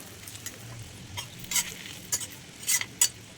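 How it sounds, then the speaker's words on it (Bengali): Litti frying in hot butter in a pan: a soft, steady sizzle underneath, with a few sharp pops and crackles spiking through over a few seconds, close and moderately loud. "এবার বাটারটা গরম হয়ে গেছে, লিট্টিগুলো আস্তে আস্তে বাটারের ভিতরে সাজিয়ে দেব।"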